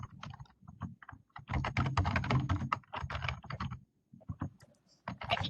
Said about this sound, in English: Not sure who's typing, but can you mute your phone?